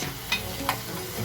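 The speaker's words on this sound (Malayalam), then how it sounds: "ഉപ്പിട്ടതിന് ശേഷം ഇളക്കി കൊടുക്കുക" Food is stirred in a pan after salt goes in while cooking fried rice, a low steady sizzle broken by two quick scraping clicks of the spoon.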